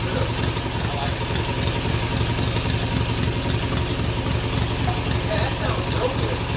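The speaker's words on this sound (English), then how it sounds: "Yeah, that sounds real good. Yeah, it's got like little idle to it." A twin-cylinder Briggs engine on a mini bike idles steadily with an even, loping low rumble close by, and a voice talks over it.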